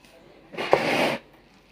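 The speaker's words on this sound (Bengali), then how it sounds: "চালের গুঁড়িটাকে একটা ব্যাটার তৈরি করে নেবো একটু একটু জল দিয়ে।" A small amount of water is poured into rice flour batter, making a single short, close splash that lasts well under a second in an otherwise quiet room.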